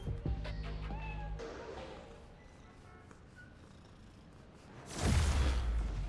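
A cat meows in the video game Spider-Man: Miles Morales, a couple of short close meows at the start followed by quieter ambience, then a loud rushing whoosh of swinging motion near the end.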